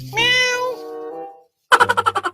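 A voice imitates a cat, giving a drawn-out meow followed after a short pause by a rapid run of about seven clipped meows, loud and close.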